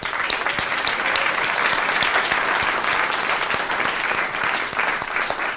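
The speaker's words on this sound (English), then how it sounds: "let's give a round of applause to Michael" An audience at an evening panel event gives sustained applause, a thick continuous roar of many people clapping together, fairly close and steady for several seconds with no talk.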